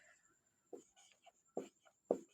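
Marker writing names on a board, a few soft squeaky strokes and taps spaced irregularly, faint and close, over a quiet room with a thin background hum.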